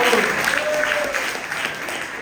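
An audience at a magic show breaks into applause, a dense, close burst of clapping that carries on for a couple of seconds.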